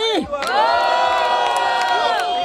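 A rap battle audience at the grand final of a freestyle battle in Barueri, São Paulo, roars in loud, sustained cheering with whoops and shouts, a dense crowd swell that barely dips before rising and holding at full volume.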